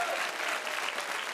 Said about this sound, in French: Public exceptionnel de l'Alhambra, applaudis-toi.